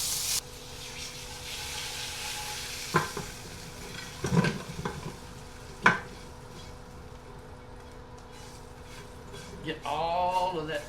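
Meat and aromatics browning in beef tallow in a pan, with a low steady sizzle broken by several sharp scraping and stirring knocks, then a brief muffled voice near the end.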